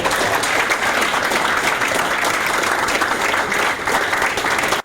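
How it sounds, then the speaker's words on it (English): Sustained applause from an audience of varsity athletes at the San Francisco 49ers practice facility, honoring rookie mentorship learners: dense, steady clapping that stays loud and even for about five seconds before cutting off. "let's give our 49 learners a big round of applause"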